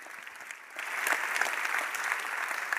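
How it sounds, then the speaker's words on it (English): Conference audience applauds at a PowerShell event as a team member walks on stage, a broad, steady wash of many hands clapping in a large hall that swells slightly partway through. "Everyone, give a round of applause for Tess."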